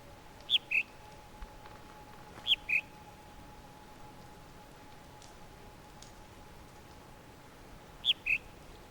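Short chirping bird calls in the video game The Witness, heard as three paired chirps spaced a couple of seconds apart over a faint steady hum and soft background ambience.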